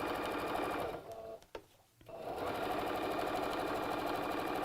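A sewing machine stitches over a bulky side seam of a bag, running in a fast steady whir, pausing briefly in the middle, then resuming and running continuously to the end.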